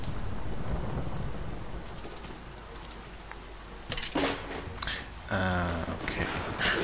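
Steady rain pours with rolling rumbles of thunder in the video game Rise of the Tomb Raider, the downpour constant and a loud thunder crash bursting in toward the end.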